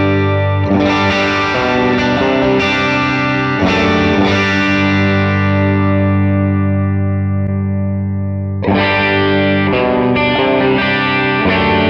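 Electric guitar played through a Fractal FM3 amp modeler with the 25-121 cab selected, giving a distorted, chorused tone: strummed chords ring out, one held long and decaying before fresh strums resume, loud and up close.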